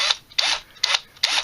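Screws backed out of a Nokē padlock during a teardown give four quick, evenly spaced metallic squeaks and scrapes, close and fairly crisp.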